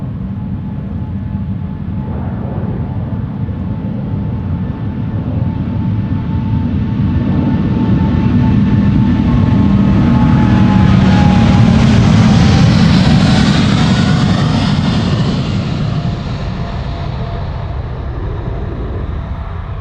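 A KLM Boeing 777-200, twenty years old, departs Amsterdam Schiphol, its jet engines a deep rumbling roar that swells to a loud peak mid-way with a rising whine, then slowly fades as it climbs away.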